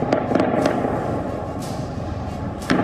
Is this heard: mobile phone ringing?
no